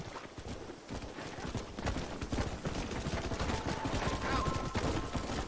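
Horses gallop steadily while herding cattle in a storm in Red Dead Redemption, their rapid hoofbeats drumming loud and close over a low background rumble.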